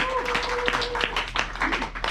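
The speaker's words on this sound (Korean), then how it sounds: "박수 한번 쳐주시죠" A seminar audience applauds in a dense run of overlapping hand claps, moderately loud and sustained, with a steady tone humming underneath and voices mixed into the crowd noise.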